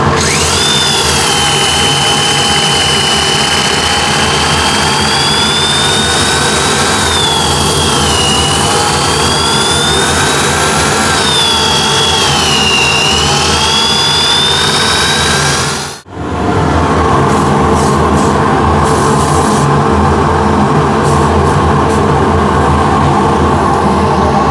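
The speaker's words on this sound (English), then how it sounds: "So I'll just sand quickly the inside." Sanding the inside of a turned walnut container spinning on a wood lathe, a loud steady whir with a wavering whine that runs for about sixteen seconds, then a brief cut-out before a duller, continuous hum resumes.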